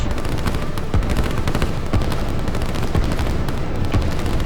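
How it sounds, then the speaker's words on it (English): Steady barrage of distant artillery and gunfire from a Line War strategy game battle, repeated booms and cracks layered over a constant rumbling din, loud and continuous with no talk. "he's got artillery responding to that command as well"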